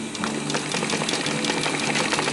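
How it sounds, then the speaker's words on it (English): Sewing machine stitching across a DIY rollup bag with webbing, a steady continuous mechanical whir with fine rapid needle ticks, close and even throughout. "I'll rotate the bag and sew over this and try to be as accurate as you can."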